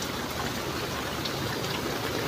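Heavy monsoon downpour heard from under a tree, a dense, even hiss of rain falling steadily and close, with no voices.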